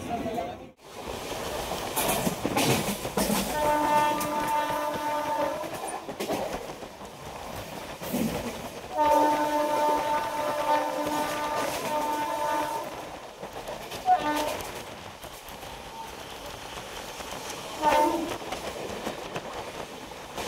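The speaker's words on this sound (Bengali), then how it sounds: "আমাদের ট্রেন এখন রানাঘাট জংশন রেলওয়ে স্টেশনে পৌঁছে গিয়েছে" MEMU train 63108 from Lalgola to Sealdah rolls into Ranaghat Junction, wheels clattering steadily while its horn sounds in two long sustained blasts and a shorter one, heard from on board with faint voices around.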